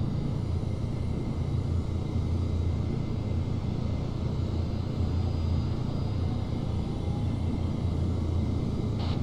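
The Blackfish VTOL aircraft in ArmA 3 flying under a constant droning engine rumble, steady and moderately quiet, without pauses or voices throughout.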